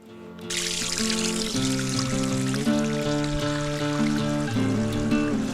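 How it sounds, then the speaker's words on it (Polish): Water gushing from a mountain spring beside a hiking trail in the Czech mountains near Vysoká Hole, a steady loud pouring splash that starts abruptly and continues without a break, with no voices. "I tutaj jest takie źródełko, wybija."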